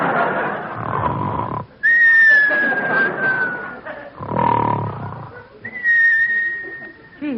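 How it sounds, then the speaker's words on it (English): Sustained whistles on a 1941 Jack Benny radio comedy broadcast sound as two long steady tones, each gliding slightly, alternating with rough growling vocal noise, loud and close. "Now come the whistles."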